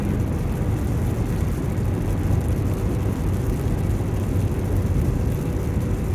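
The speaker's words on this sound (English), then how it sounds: "We are in the rain, just driving in the rain." A truck drives through rain, giving a steady, dense low road rumble and hiss of tyres on wet pavement that holds constant and close throughout, with no voices.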